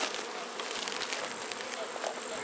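Honeybees swarm around an open beehive, a dense continuous buzzing close by that fills the moment, with faint sounds of handling mixed in.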